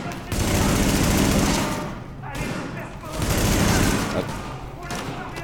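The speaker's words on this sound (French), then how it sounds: "Faire des tirs à la tête tant qu'à faire." Loud, close bursts of rapid gunfire from The Division beta come in two sustained volleys separated by a short lull, with a person talking briefly over the shooting.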